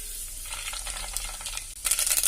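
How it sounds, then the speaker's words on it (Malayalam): Mustard seeds dropped into hot coconut oil for a Kerala fish head curry, crackling and sizzling steadily at low volume, growing louder and sharper near the end. "ഇനി ഞാൻ ഇതിലേക്ക് കടുക് ഇട്ട് കൊടുക്കുകയാണ്."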